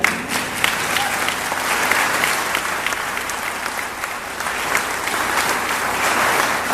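An audience at the Tampa mayor's State of the City address breaks into dense, sustained applause with some cheering, steady and fairly loud throughout with no talking over it.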